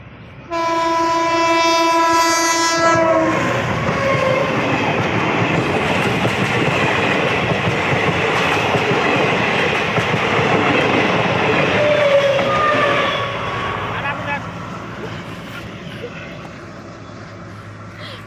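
A train on the Darbhanga–Supaul railway line sounds a long horn, then rumbles past with a loud, steady roar and faint wheel clatter that eases slightly toward the end.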